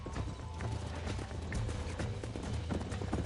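Horse hooves clip-clop steadily in Red Dead Redemption, a close, continuous run of hoofbeats with brief whinnies mixed in, over a constant low rumble and no speech.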